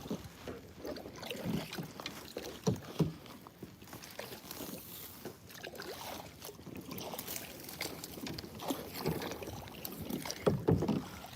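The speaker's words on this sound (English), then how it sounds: "Paddling backwards should not be this difficult." Kayak paddling backwards on a grassy waterway, with soft irregular splashes and drips of the paddle, close by and quiet, under light wind noise and faint rustling.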